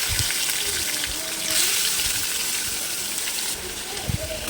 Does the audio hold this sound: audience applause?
no